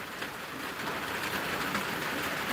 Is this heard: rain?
yes